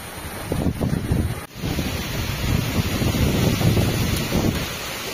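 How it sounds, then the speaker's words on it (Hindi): Strong wind roars and buffets the microphone in continuous gusts in a mountain forest ahead of heavy rain, a dense low rushing sound with no voices. "और कुछ तेज तेज हवाएं जो कि हमें डरा रहे हैं बहुत ही भयंकर तरीके से।"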